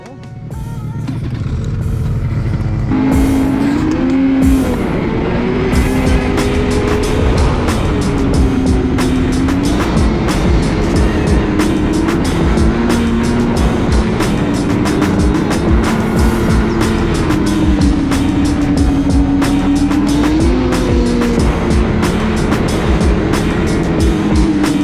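Lynx Rave RE and Ski-Doo Renegade XRS 850 snowmobiles riding, with a loud, sustained engine roar whose pitch rises and falls as the throttle changes, close and continuous throughout.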